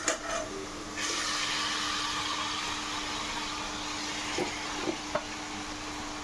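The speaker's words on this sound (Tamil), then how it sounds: "இப்போ ஃப்ரை செய்கிறதுக்காக சிக்கன் அதில் சேர்த்துக்கலாம்." Chicken drops into a hot pan for frying and sizzles in a steady, close, hissing wash that runs unbroken to the end, with a few small pops and clatters.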